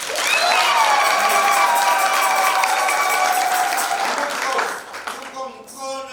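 A church congregation claps steadily and loudly during a bishop's Ascension Day homily, with high ululating cries riding over the applause before it thins out near the end.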